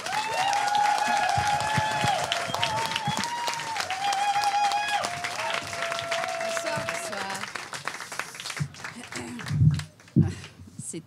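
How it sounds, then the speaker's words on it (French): Applause from a stand-up comedy audience, dense clapping and crowd noise with music playing over it, fading out near the end as a performer steps up and begins talking. "je vous demande un tonnerre d'applaudissements pour notre première intervention"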